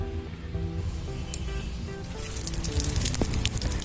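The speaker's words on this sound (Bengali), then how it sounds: "সর্ষের তেলের ওপরে জিরে তেজপাতা শুকনো লঙ্কা ফুরন দিলাম" Cumin, bay leaf and dry red chilies crackle in hot mustard oil for a tempering, a soft, spattering sizzle that grows brighter and busier toward the end, with a faint hum beneath and no talking.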